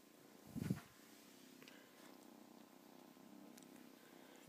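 A cat purring softly in a steady low rumbling rhythm, close by and quiet, with a brief louder rustle or bump near the start and no talk.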